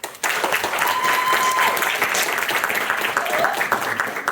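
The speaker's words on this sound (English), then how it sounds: "Everyone give a round of applause for Jack" Audience at a York Comedy Society Taskmaster-style show breaks into steady applause, a dense, close wash of clapping that starts abruptly and holds evenly throughout.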